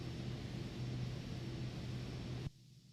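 Cabin of a Cirrus Vision Jet in Microsoft Flight Simulator 2020. A steady whooshing jet hum with a low tonal drone holds evenly, then drops sharply to a much quieter level near the end.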